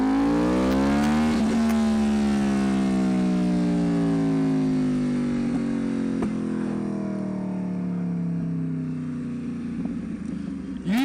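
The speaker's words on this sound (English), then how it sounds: "if it's just lurching and you're accelerating like this, then you need to accelerate like this" A motorcycle engine during wheelie practice pulls hard with throttle, its loud, close tone sweeping steadily downward as the bike draws away, sustained throughout with no talk.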